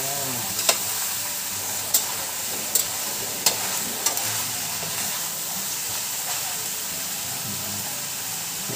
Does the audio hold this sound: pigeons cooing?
no